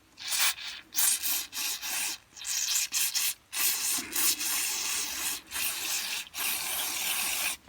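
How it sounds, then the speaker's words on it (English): A wire brush scrapes old gasket residue off a part from a Ryobi hedge trimmer, giving close, gritty rubbing strokes in short repeated bursts with brief pauses between them. "I just give that a light wire brush down, and all the crud is off of that now"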